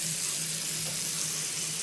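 Steady running water from a tap splashing into a sink, a continuous hiss with a faint low hum underneath and no talking.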